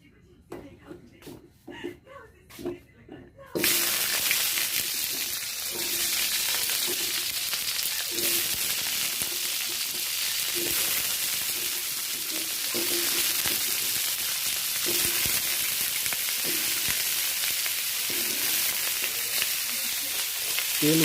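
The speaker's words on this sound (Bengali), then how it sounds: "তেল গরম হয়ে গিয়েছে, আলু দিয়ে দিলাম। আলুটা ভাজা করে নেবো লাল লাল করে।" Potatoes tipped into hot oil burst into a loud, steady sizzle after a few quiet moments of handling noises, the frying hiss holding evenly for the rest of the stretch with faint stirring.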